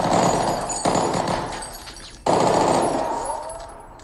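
Gunfire from the film Dawn of the Planet of the Apes: two bursts of rapid automatic shots, loud and close, each starting sharply and tailing off into echoing reverberation, with no talk over them.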